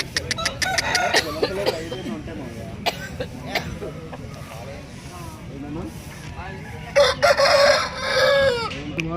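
Roosters crow and hens cluck repeatedly at a busy village country-chicken market in Anakapalli district. The calls are loud and close, and crowd chatter runs beneath them the whole time.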